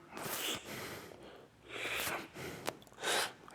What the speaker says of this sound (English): You probably can hear the sudden change in the way I breathe.